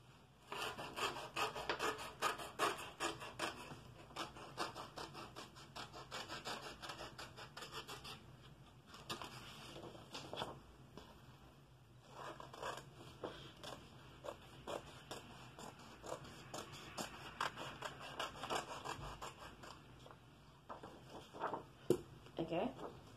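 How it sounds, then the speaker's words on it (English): Scissors snip through folded paper strips for a homemade notebook, faint close cutting and rustling in bursts with short pauses between them, with no talk. "you're gonna cut the folded part or the folded strips"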